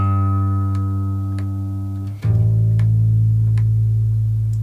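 A 1983 Ibanez Musician fretless bass plugged straight into an amp sounds a sustained, buzzy low note that cuts off about halfway, then a new deep note rings out loud and steady, with faint clicks above.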